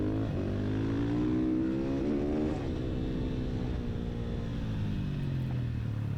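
Supermoto motorcycle engines racing on a track, a loud, close, continuous rumble with one bike revving and rising in pitch, then easing back, without talk.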